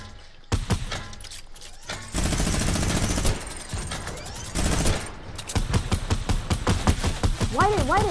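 Automatic gunfire sprays in a video game shooter: several loud bursts, one long sustained string and shorter rattles, with brief pauses between. Voices talk in the gaps.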